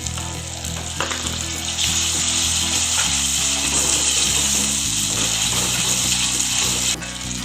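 A loud burst of sizzling as water hits hot frying masala for Hyderabadi mirchi, a steady bubbling hiss that continues throughout with faint clinks.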